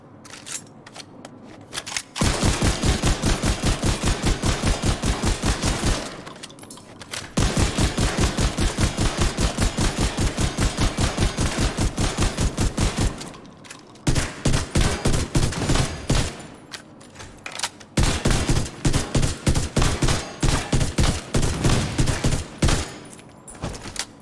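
Handgun fire in the video game The Division 2, long sustained runs of rapid repeated shots in several loud bursts separated by brief pauses, with no talk.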